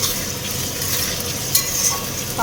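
Onion and tomato frying in a pan while being stirred, a continuous close sizzle with scraping of the spoon and a few brief clinks, no talking.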